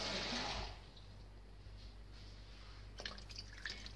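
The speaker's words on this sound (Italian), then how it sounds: "A questo punto vado ad unire abbondante acqua" Water is poured into a pot to make Italian pumpkin soup, a vellutata di zucca. A loud splashing rush comes first and then fades into quiet trickles and drips.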